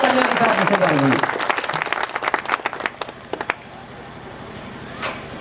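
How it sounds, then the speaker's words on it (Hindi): Loud, dense applause from the crowd at a Bahujan Samaj Party Muslim brotherhood committee gathering as a chief guest is welcomed. It starts over a brief voice, then thins into scattered individual claps that fade out. "आप लोग तालियों के साथ जोरदार तालियों के साथ इस्तकबाल करें"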